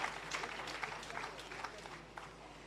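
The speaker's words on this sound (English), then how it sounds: "Give him a round of applause, please." Faint audience applause for the Prime Minister at the Jamaica Civil Service Long Service Awards 2023, a soft, steady patter of many hands clapping with a murmur of voices underneath.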